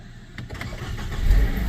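A Nissan Juke F15 with an intermittent starter fault finally starts, a brief crank that catches and swells into a louder, rising engine rumble, heard close up.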